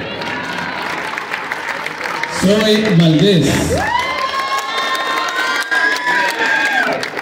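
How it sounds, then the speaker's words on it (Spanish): Spectators at a charro arena in Ciudad Juárez applaud and cheer, a continuous crowd roar with shouts and whistles rising partway through, while a voice over a loudspeaker briefly speaks. "Fuerte el aplauso, señores, que se escuche."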